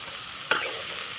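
Broccoli fries in a pan with salt, turmeric and chili powder, giving a soft, steady sizzle and one quick scraping stir partway through.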